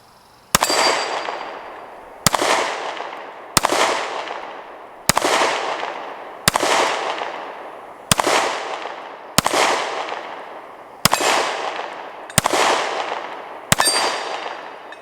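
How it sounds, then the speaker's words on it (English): Nine loud, sharp metallic pings from Ruger Max 9 pistol shots striking a small hanging steel gong, evenly spaced about every one and a half seconds, each ringing and decaying before the next, with no talking. "little hanging gong that we have up there"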